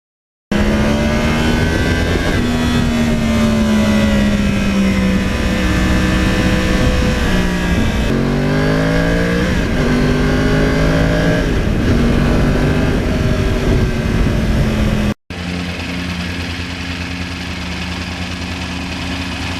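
A Yamaha R1 crossplane motorcycle on Pirelli Angel tires roars loudly and continuously while being ridden, its pitch climbing and falling through gear changes, then an abrupt cut to a lower, steadier drone.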